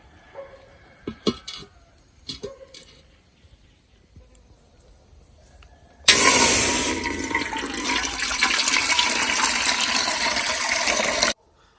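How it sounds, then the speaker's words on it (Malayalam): Water pours into a cooking pot on the stove for papaya fries, a loud steady gushing stream lasting several seconds after a few quiet clatters, close and without talk. "ഈ കപ്പളങ്ങ ഇതിൽ മുങ്ങി നിൽക്കാൻ പാകത്തിനാണ് വെള്ളം ഒഴിച്ചേക്കുന്നത്"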